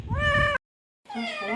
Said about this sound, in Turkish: bu kedi